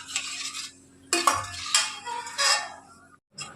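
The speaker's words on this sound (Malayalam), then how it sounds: "തേങ്ങാപ്പാലും ചേർത്ത് നല്ലോണം മിക്സ് ചെയ്യുക" Coconut milk is stirred into Thiruvathira puzhukku with a metal spoon in a pot, giving several bursts of scraping and clinking separated by short pauses, close and fairly loud.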